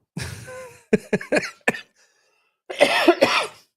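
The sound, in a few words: cough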